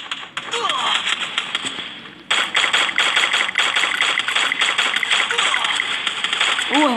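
Rapid gunfire from Free Fire gameplay, steady rattling bursts running nearly throughout at close range, with a person talking over it.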